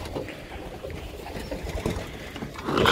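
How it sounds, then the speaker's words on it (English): Pigeons coo softly at a loft amid a busy, rustling background, with soft low calls repeating throughout and a louder rise at the end. "there is about 3 or 4 minutes of the birds on the block just relaxing"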